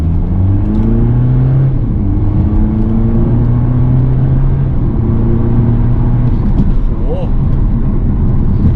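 A 2015 BMW 420d Convertible (F33) diesel with a redone exhaust accelerates hard in sport mode, its loud, close engine drone rising in pitch in repeated sweeps as it pulls through the gears, heard from inside the car.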